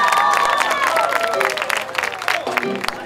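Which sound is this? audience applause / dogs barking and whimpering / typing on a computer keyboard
audience applause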